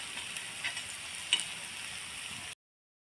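Banana rava paniyaram balls frying in oil in a pan, a steady soft sizzle and crackle throughout with one faint tap near the middle, close and quiet, then abrupt silence at the end.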